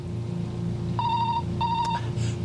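A telephone rings in two short electronic bursts against a low background hum.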